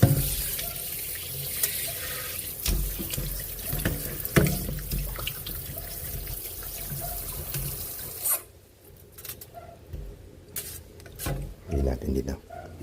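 Kitchen tap water running and splashing in a sink while a pork leg (pata) is rinsed, a steady close rush that cuts out and returns in short splashes near the end.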